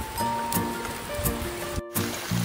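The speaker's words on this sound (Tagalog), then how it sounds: "Ayan, lakas ng ulan." Dense, steady hiss of heavy rain pouring down, close and loud, with a brief dropout partway through.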